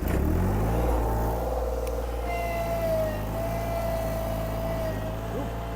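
The engine of a KRT ST900HD mini skid steer cranks and settles into a loud, steady idle with a sustained low drone and a faint whining tone, close to the listener.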